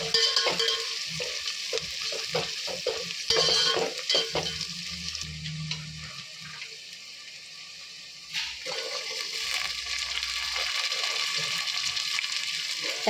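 Vegetables for a Kannada avarekai pulao frying in a pan, a close sizzle with stirring clatter that fades into a quieter stretch, then a steady hiss with a faint low tone and a brief voice.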